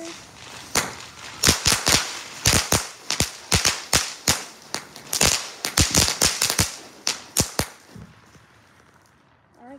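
New Year 2024 fireworks set off in a rapid, uneven string of loud, sharp bangs and cracks, some in quick clusters, for about eight seconds before the sound cuts to near silence.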